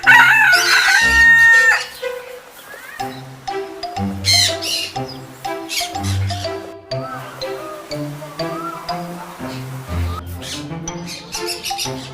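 A rooster on a Thai farm crows loudly and close by, one long crow at the start followed by steady clucking and calls from several chickens throughout.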